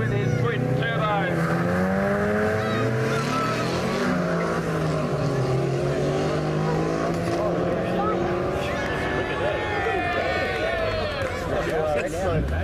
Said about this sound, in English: got a tough competitor on the other side, George Cornerinas with his twin turbo.